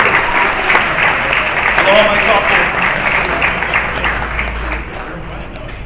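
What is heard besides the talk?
applause for the people who prepared the meal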